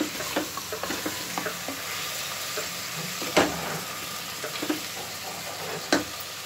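Tomatoes sizzling and frying in a pan for chicken biryani, a steady hiss with occasional stirring scrapes and clinks, close and moderately loud, without speech.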